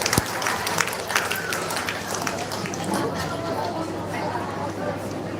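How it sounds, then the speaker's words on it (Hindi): An audience at a Satnami community land-worship ceremony in Bilaspur claps in sustained, dense applause welcoming guests, with crowd chatter mixed in. "एक बार ताली बजा करके आप सभी का स्वागत करें"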